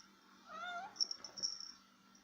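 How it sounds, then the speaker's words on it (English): A pet cat meows several times at night, rising and falling calls up close, followed by soft rustling and scratchy movement near the microphone. "There's my cat talking and moving the camera."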